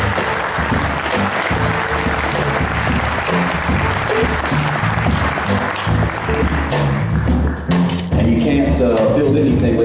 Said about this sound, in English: a big, giant, huge civic round of applause for Mr. Bill Lucas.